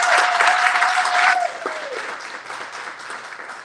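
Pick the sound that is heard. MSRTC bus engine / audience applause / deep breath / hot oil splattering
audience applause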